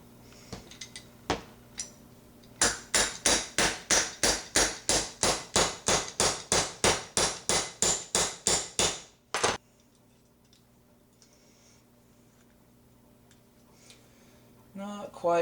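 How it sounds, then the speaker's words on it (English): Hammer strikes driving a pin into a Stevens 107B/94H shotgun receiver: about twenty-five sharp, evenly spaced metallic blows in a fast steady rhythm, close and loud, then quiet with faint handling noise. "you'll just drive this pin straight through"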